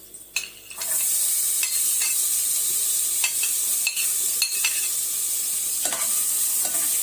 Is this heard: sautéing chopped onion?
yes